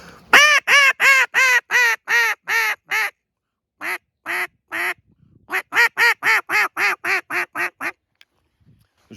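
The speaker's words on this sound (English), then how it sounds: "For hailing ducks, sometimes I have that pointed towards the open side of my hand because it gives me a little higher pitch" Series of loud, sharp quacking hail notes blown on a duck call, with the caller's hand cupped for higher pitch. A rapid run of evenly spaced notes comes first, then a few spaced single notes, then another fast descending run, all close and clear.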